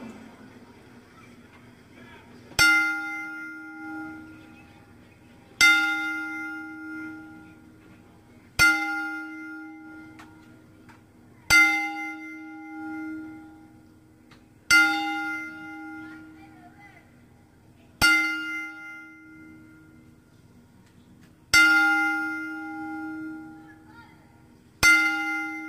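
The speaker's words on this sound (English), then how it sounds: "let's all stand in silence as the bell tolls 11 times in honor of the victims" Memorial bell tolling for the September 11 victims, eight loud, evenly spaced strikes, each ringing out and fading before the next, in a quiet setting.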